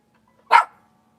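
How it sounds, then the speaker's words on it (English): A pet dog indoors lets out a single sharp bark, short and close, in an otherwise quiet room. "Do you hear this dog?"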